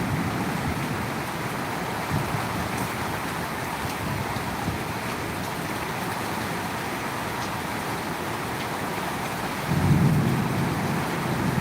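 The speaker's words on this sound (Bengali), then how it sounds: "বৃষ্টি দেখে প্রশান্তি চলে আসছে" Steady rain falling in Bangladesh, a continuous broadband wash with some heavier low rumble near the end, no talk.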